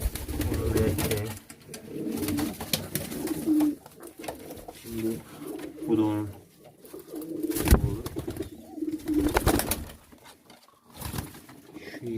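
Pigeons coo in a roost at night, soft throaty rolling calls repeating at intervals, with occasional wing rustles and someone talking over them at close range.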